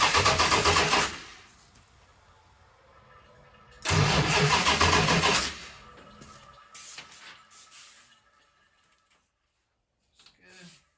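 A 1970 Plymouth Roadrunner V8 cranks in two loud bursts, the second catching briefly before fading, then quieter mechanical clicks and rattles follow with long near-silent gaps; close to the engine, no talking.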